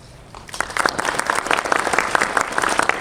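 Audience applause in a Megabox Mokdong cinema at a Q&A screening of the film Hwaran. Dense, steady clapping from a large crowd starts sharply and fills the whole clip with no talk over it.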